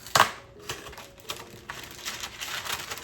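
A new roll of parchment paper being opened in a home kitchen, with a sharp crinkling tear at the start followed by faint intermittent rustling and crackling, close and alone.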